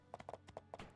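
Horse hooves clip-clop in the My Time at Portia video game, a faint quick series of hollow clopping steps over about one second.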